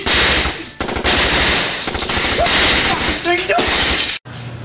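Rapid, loud automatic gunfire from a broken gun in a trailer park comedy scene, crackling bursts filling several seconds with brief gaps and a shattering edge. A voice speaks briefly under the shots.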